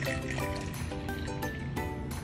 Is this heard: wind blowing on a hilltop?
no